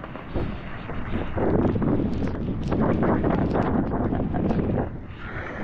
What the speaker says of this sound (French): Ah oui, il y a du vent, ça souffle.